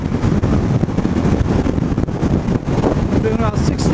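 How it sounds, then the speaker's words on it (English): Heavy, buffeting wind roar rushes past the rider on a 2014 Honda CBR500 motorcycle at about 60 mph, loud and continuous with gusty fluctuations, and a voice is faintly audible beneath it. "I mean, I hear a lot of wind."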